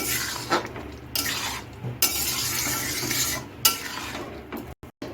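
Chira khichuri is tossed and mixed in a pan with repeated scraping strokes of a spoon against metal over a soft sizzle, in uneven bursts with a couple of brief dropouts near the end.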